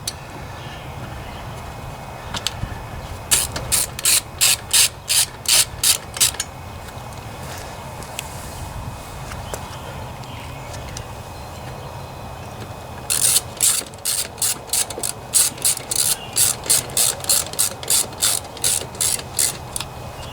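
A ratchet tightens bolts on a Briggs & Stratton 163cc engine in two close, loud bursts of rapid clicking, a short run first and then a longer one, with quiet pauses between.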